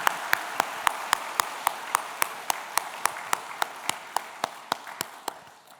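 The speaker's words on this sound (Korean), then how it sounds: "오늘 찬양 올려드린 분들을 축복하면서 박수하도록 하겠습니다" A church congregation claps for worship singers at a special dawn prayer service, a slow, steady run of about twenty evenly spaced single claps at moderate volume, each sharp and distinct, with no talk over it.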